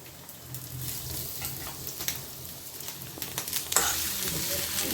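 Onions sizzle steadily in a pan of oil seasoned with cumin and dried chilli for an onion-tomato chutney, under occasional stirring scrapes and small clatters, moderately close and even throughout.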